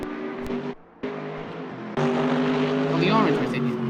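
Onboard engine note of a Mercedes race car in the Assetto Corsa racing game, a steady droning tone that cuts out briefly and then returns louder with rising pitch, under a voice talking throughout.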